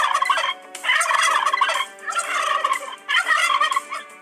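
Recorded turkey poult calls played from a recorder hidden inside a stuffed polecat: three loud, dense bursts of chattering calls separated by brief gaps, close and with no voices.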